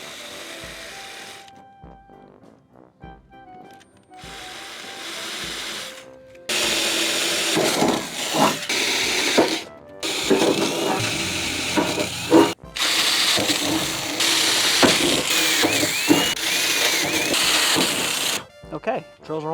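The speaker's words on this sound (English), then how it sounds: "All right, let's drill these holes." A power drill boring holes in the hood of a 1969 Mustang for a shaker scoop install, several loud whirring bursts of varying length separated by pauses, close up, with brief talk between.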